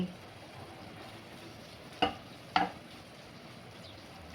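Tomatoes cooking in a pan with a soft low simmering sizzle, broken by three sharp stirring scrapes of a spoon against the pan, close and alone without talk.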